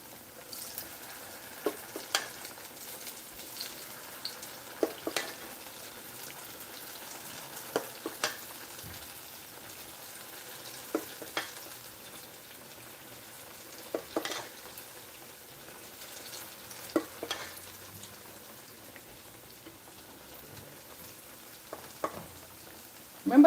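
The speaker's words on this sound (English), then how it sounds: "So I'm just going to get some bite sizes like so and add to the oil." Bite-sized pieces of a salted onion batter dropped into hot oil, frying with a continuous soft crackle and sizzle broken by sharp pops and spatters spread through the whole stretch.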